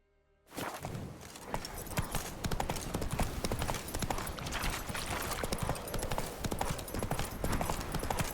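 Horse hooves from The Witcher 3 break into a rapid, continuous clatter of galloping after a brief silence, loud and close, with no voices over it.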